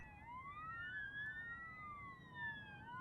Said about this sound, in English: then we heard the sirens. They grew louder